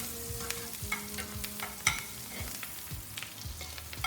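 Mushrooms frying in a pan: a continuous close sizzle broken by frequent sharp scrapes and clatters as they are stirred.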